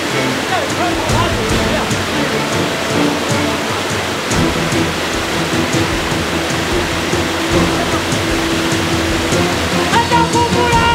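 The first waterfall at Niaotakeng in Nantou sends out a continuous, heavy rushing roar for the full length, with scattered movement and faint voices mixed into the noise.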